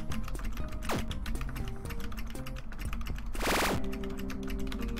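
Two computer keys pressed rapidly and repeatedly to do reps in the prison video game The Escapists, a fast, loud run of keyboard clacks over looping game music, with a brief electronic swoosh near the middle.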